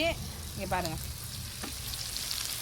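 Spinach greens sauté in a pan with a soft, steady sizzle that sits fairly faint in the background while someone speaks briefly.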